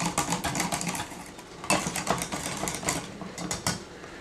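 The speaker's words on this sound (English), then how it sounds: "we do want to be sure that we whisk out all of our lumps" Metal whisk beating caramel sauce in a small saucepan, a quick run of close, rhythmic scraping strokes with brief pauses, no voices.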